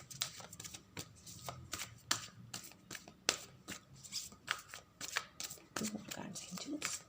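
Tarot cards being shuffled by hand during a reading, a steady run of soft riffling and slapping card sounds heard up close, with a person speaking quietly underneath.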